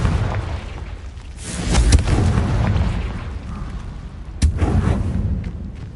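Confringo fire-blasting spell explosions in Hogwarts Legacy: two loud booming blasts a few seconds apart, each with a sharp crack and a rolling low rumble.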